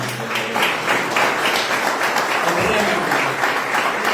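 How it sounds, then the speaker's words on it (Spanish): A church congregation claps together in praise, a dense steady wash of applause lasting several seconds at close range. "Dale un aplauso al Señor."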